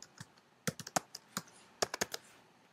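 Sparse, distinct clicks of a computer keyboard as a username and password are typed in, about a dozen keystrokes in small irregular clusters, close and quiet with no speech.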